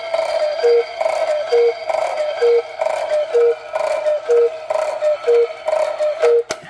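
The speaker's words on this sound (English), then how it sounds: "I've got this Old Glory cuckoo clock all put together." Old Glory cuckoo clock with its pendulum running, giving a steady, even series of about seven sharp ticks at a regular beat over a faint mechanical hum, close and clearly amplified.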